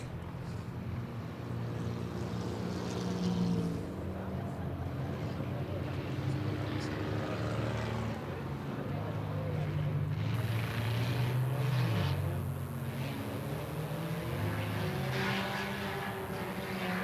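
A race car engine with a slipping clutch drones steadily at a distance during an enduro feature race, its pitch wavering and surging unevenly, with the crowd and track noise blended underneath.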